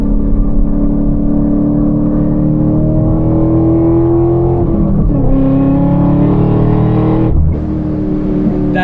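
A Chevrolet Camaro ZL1, a 4,000-pound fifth-generation car, holds a loud sustained engine drone while cornering, its pitch climbing steadily, briefly dipping with a gear change, then easing off near the end.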